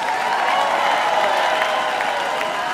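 Dense, steady audience applause fills a gala show at Wörthersee, a continuous wash of many hands clapping with crowd noise, loud and sustained throughout with no pause.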